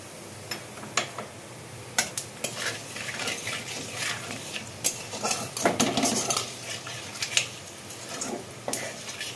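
Panch phoron five-spice seeds fry in hot oil in a kadai wok, a light crackling sizzle broken by repeated sharp metallic clinks and scrapes of a utensil against the pan.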